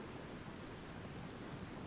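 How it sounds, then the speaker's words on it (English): Steady broadband rain hiss in Medieval Total War: Viking Invasion, a constant, even wash of falling rain with a low rumble underneath, no breaks and no talking. "let's try to get up here before this rain stops"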